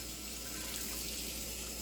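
Hot tap water runs steadily into a sink while a cast iron pan is rinsed of cheese and salt residue, a continuous faint hiss and splash with no voices.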